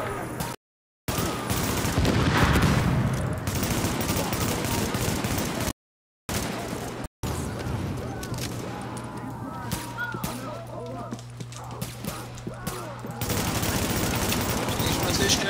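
Sustained bursts of automatic gunfire from Tom Clancy's The Division on PC, dense and loud through most of the stretch with a few brief dropouts, while a player speaks faintly beneath it.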